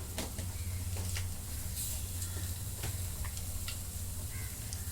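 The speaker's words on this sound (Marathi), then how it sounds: "अजून एक चमचा जिरे टाकून घेतले" Cumin seeds sizzle in hot oil, a steady close frying hiss with scattered small pops and crackles throughout and no talking.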